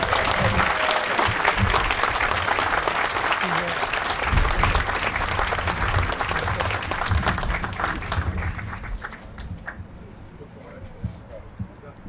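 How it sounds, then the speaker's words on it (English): A Folk Heritage Association audience applauds Margaret Setzer Ramsey with loud, dense clapping that carries on for several seconds before thinning and fading to a few scattered claps. "give a round of applause for Margaret Setzer"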